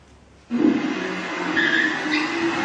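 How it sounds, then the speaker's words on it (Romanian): A car pulls up outside, arriving suddenly with a loud tire skid and engine noise that holds steady as it comes to a stop, with no talking. "La un raport s-a oprit o mașină."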